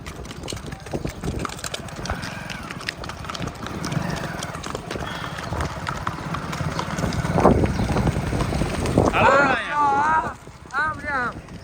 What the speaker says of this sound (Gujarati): આમો ગામ બાજુ અહીંયા ઓલી ઘોડી નો પકડે, ભોલુભાઈ ને હારે રાખજો.